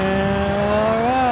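A truck passes in roadside traffic just before rush hour, its loud engine tone rising and bending in pitch as it goes by close.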